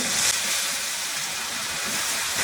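Ground onion paste sizzling as it fries in a pan for a tomato chicken dish, a steady, bright hiss holding evenly, near and fairly loud, with no talk.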